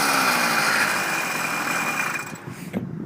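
A two-stroke motorized bicycle engine running on 16:1 break-in oil buzzes loudly and close, then the revs drop away and it sputters briefly near the end.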